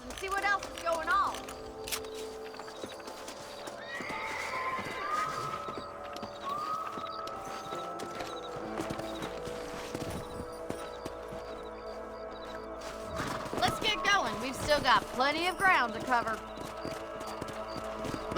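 Horses in Red Dead Redemption carrying riders across open ground, hooves clip-clopping in a steady rhythm with an occasional whinny, moderately close, while someone speaks briefly over the ride.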